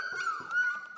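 Young puppies whimpering close by, a thin sustained high whine with small yips layered over it, brief and fairly faint with no talk.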